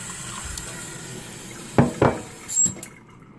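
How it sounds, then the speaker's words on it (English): Tap water runs briefly into a coffee cup or measuring cup, giving a few short splashing bursts over a faint background hiss before it cuts off. "I'll throw a little bit of water in there."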